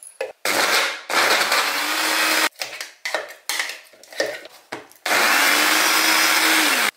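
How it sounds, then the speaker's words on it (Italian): A blender whirs loudly as it purees frozen banana with soy yogurt, running in several bursts with short pauses between, the motor pitch steady during each run, no talking. "E adesso semplicemente frullo."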